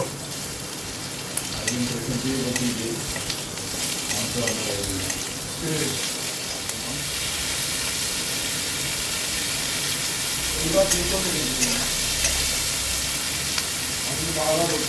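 Sliced capsicum and onion fry in a little oil in a pan, giving a steady close sizzle with scraping stirs, and a voice is faintly heard in the background.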